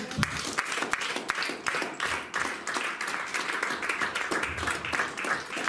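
A church congregation claps and cheers together at a Christmas Day service, steady dense applause rising and falling throughout with faint voices mixed in.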